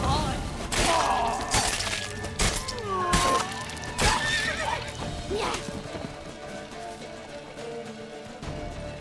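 A horse whinnies several times over clattering hoofbeats and game sound effects in The Witcher 3: Wild Hunt, the neighs rising and falling in pitch.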